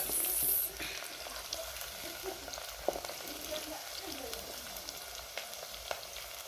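Onions frying in palm oil over a village cooking fire: a steady, soft sizzle carries throughout, with a few faint clicks and background sounds.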